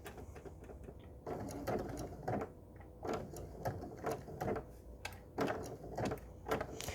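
Standard domestic sewing machine stitching embroidery, a faint motor hum broken by uneven clusters of quick needle clatter and short pauses as the fabric is shifted, heard alone without talk.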